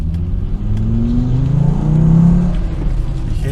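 A Volvo car engine revs up close, its deep drone rising in pitch as the variable valve timing engages around 3500 rpm, then settling back, with no talking.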